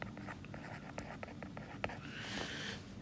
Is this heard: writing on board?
yes